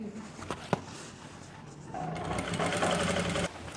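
A sewing machine stitches a seam on Korean-style pants, starting quietly with a few clicks before settling into a steady, louder whirring run close by.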